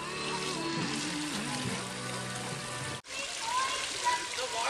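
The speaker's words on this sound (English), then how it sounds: "The waterfall goes back into this pool." Steady rushing water from a small waterfall pouring into a backyard pool at a neighbor's party, a continuous broadband wash heard close by, briefly cut off midway, with music or voices faintly in the background.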